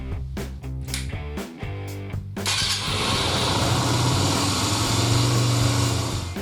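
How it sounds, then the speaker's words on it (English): A motorcycle engine cranks and starts after a short tonal passage, then settles into a steady, loud idle to warm up before an oil change. "First, warm up the engine."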